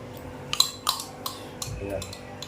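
A knife cuts beef pieces for curry with sharp clinks and taps against a plate or pan, several irregular knocks spaced apart while a voice talks quietly in the background.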